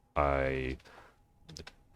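Keyboard and mouse input during a Hollow Knight gaming session. A loud, voiced burst sits up front, followed by a quick cluster of soft, close key clicks against a quiet background.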